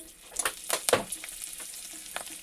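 Curry leaves hit hot ghee in a kadai, setting off a burst of loud, close crackling pops that settle into a softer, patchy sizzle.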